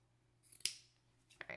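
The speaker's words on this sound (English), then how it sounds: "And I can even cut the ones at the front now" Scissors snip through the ends of a three-strand braided headband, one sharp close cut followed by a couple of softer snips, with faint voices in the background.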